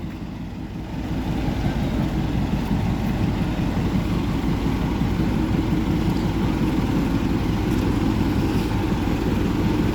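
A diesel-engine heritage toy train with two coaches stands at Rongtong station, its engine idling in a continuous low throb that stays close and steady, with no talk over it.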